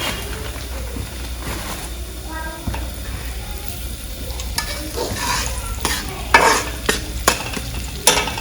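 Dry ingredients roast in ghee in a pan, a soft sizzle under repeated scraping and clattering stirring strokes that grow louder and sharper toward the end.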